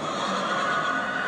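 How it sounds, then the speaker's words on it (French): A horse neighs in a stage production of Crime and Punishment, a sustained whinny heard at close range against a steady, noisy backdrop with no talk. "ce pauvre cheval, papa."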